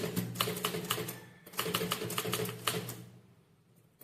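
Keys on a typewriter clack in quick, steady bursts while a letter is typed, loud and close, with a brief pause midway, then fading to a few sparse strikes.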